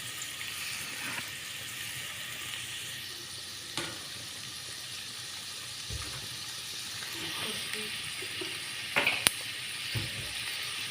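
Chopped onion and green chilli fry in oil for a green chicken gravy as a faint, steady sizzle. A few soft clinks and scrapes break in now and then.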